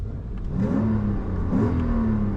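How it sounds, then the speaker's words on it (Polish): A 1992 Mercedes 500E V8 (326 hp) revving through its stock exhaust, two rising pulls of a deep, steady engine note sounding close and loud, with no talking. "Jest tu seryjny wydech. Auto nie jest aż tak super głośne,"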